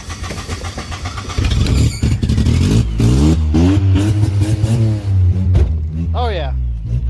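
An old car that died in a junkyard parking lot cranks, catches and revs up, its engine note rising and falling loudly at close range while people talk over it.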